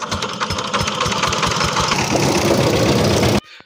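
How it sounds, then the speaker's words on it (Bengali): An AB Saifing power tiller engine runs loud and close on village farmland, a steady chugging idle with rapid rhythmic knocking pulses before cutting off abruptly near the end. "AB সাইফিং power tiller."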